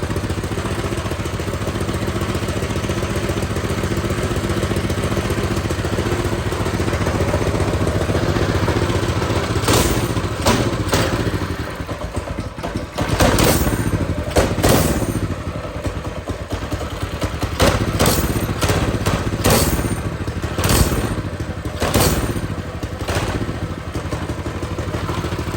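An Axis M200 mini bike engine runs steadily close by, its uneven idle rattling and whirring throughout, with sharp clattering bursts breaking in over the second half as the carburetor is being tuned.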